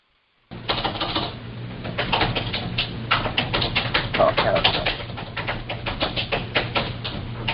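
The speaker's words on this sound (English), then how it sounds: "If you're typing, I can hear you." Rapid, irregular clacking of keys on a keyboard over a steady low hum, continuing throughout at a fairly close distance.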